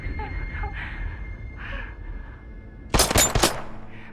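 Gunfire in Batman: Arkham Knight erupts as a short burst of several sharp shots near the end, after quiet ambient murmur and faint tones.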